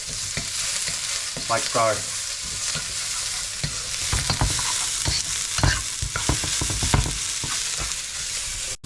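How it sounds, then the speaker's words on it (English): Shallots sizzle and caramelise in a hot pan for a Thai pad krapow, a steady frying hiss broken by clattering stirs and scrapes, with a brief spoken remark near the end. "You can see the sizzle."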